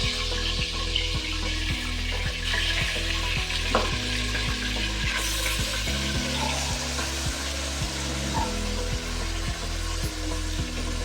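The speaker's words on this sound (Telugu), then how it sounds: "ఇప్పుడు మ్యారినేషన్ చేసిన చికెన్ని దీనిలో వేస్తున్నాను" Marinated chicken sizzles loudly in hot ghee and oil in a pan while it is cooked for chicken dum biryani. A steady, close frying hiss runs throughout, joined by repeated thumps and scrapes of stirring.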